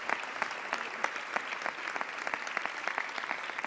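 A seated audience applauds after a Holy Week proclamation speech in Isla Cristina. The clapping is dense and continuous and holds steady at a moderate distance.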